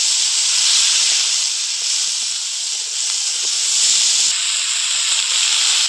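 Pumpkin leaf stalks sizzle in hot oil with reddened onions and green chillies, a loud, steady, close hiss of frying that holds evenly throughout with no talk.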